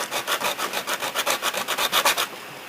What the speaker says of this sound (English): Just kind of work on filing this down here.